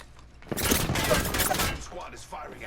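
Enemy gunfire in Apex Legends, a loud rapid burst of shots lasting about a second, followed by quieter scattered game noise.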